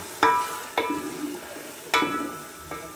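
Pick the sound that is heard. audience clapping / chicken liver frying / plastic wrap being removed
chicken liver frying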